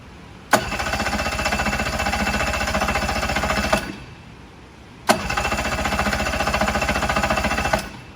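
A Mercury 60 hp four-stroke outboard cranks over without firing, with the lanyard pulled, in two loud rhythmic bursts of several seconds each, each starting with a click, with a pause between.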